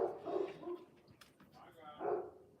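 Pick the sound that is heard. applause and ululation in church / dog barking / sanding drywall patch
dog barking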